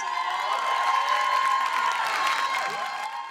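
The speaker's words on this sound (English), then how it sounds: "Please let's give him a round of applause." At the PitchBLACK Awards ceremony in New York City, the crowd applauds an honoree with sustained, fairly loud clapping and a faint steady tone beneath it.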